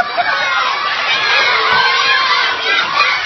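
Children and adults at a kids ministry small group event cheer and shout together, a loud, continuous crowd roar encouraging someone through a timed challenge, with overlapping excited voices throughout.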